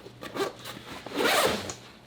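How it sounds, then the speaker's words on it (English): A zipper on a Kifaru backpack is ripped open, giving a short, close, quiet zipping rasp that swells in the middle. "I do like the zipper on here a lot more."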